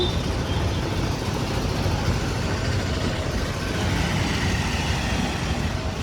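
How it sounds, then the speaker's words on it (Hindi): Dense road traffic on a busy main road in Pinjore makes a continuous low roar of cars, trucks and buses. The rumble stays steady and loud throughout, with no voices above it. "यहाँ पे तो गाड़ियों के शोर के अलावा कुछ सुनाई नहीं"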